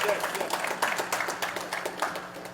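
An audience at a European Parliament-related ambassadors' event applauds, with a dense spatter of claps of moderate loudness running under a speaking voice for a few seconds.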